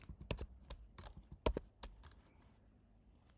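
Code being typed on a computer keyboard, heard as a short run of crisp, uneven key clicks up close that fades into quiet near the end.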